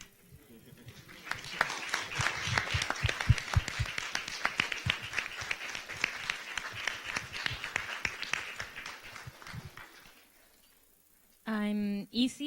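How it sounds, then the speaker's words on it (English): Youth conference audience at a UNESCO sustainability event standing to applaud, crisp individual claps building into a full round that rises, holds, then tapers off before a voice speaks at the end. "Just stand and give yourself a round of applause"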